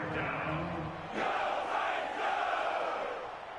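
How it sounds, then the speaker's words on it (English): Stadium crowd roaring in a football video game, a broad sustained swell of cheering that rises sharply and holds, loud and continuous with no clear talking. "the crowd getting into it as we come up on a big third down"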